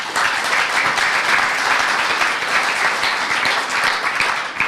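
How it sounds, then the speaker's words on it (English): An audience at a startup pitch night gives a sustained round of applause, a dense, even wash of many hands clapping that holds steady without a break. "Please, another round of applause."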